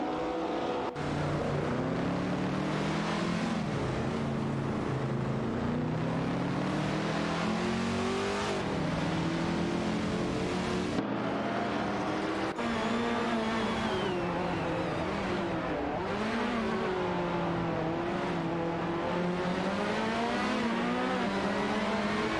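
A racing car in a racing video game speeds off with a sustained engine roar whose pitch climbs and falls through gear changes. It stays loud and close the whole time, with no speech.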